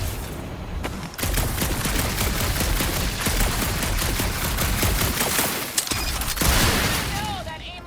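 Sustained gunfire in the Guardians of the Galaxy video game on a dark monster planet, a dense continuous fusillade of rapid shots with a few louder booms, close and steady.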